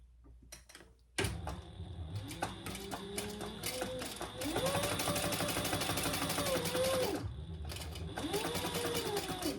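A sewing machine stitches across the bottom of a wallet pocket in a rapid, steady mechanical whir after a brief quiet start, with faint clicks and slight changes in speed.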